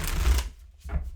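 Deck of tarot cards being shuffled by hand, a brief close riffle of papery flutter, a short pause, then another quick burst, with no voices.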